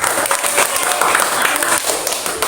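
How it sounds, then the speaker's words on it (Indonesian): Students in a classroom clap for a group's presentation, a steady burst of applause that fills the room. "Beri tepuk tangan dulu untuk presentasinya dari kelompok 2."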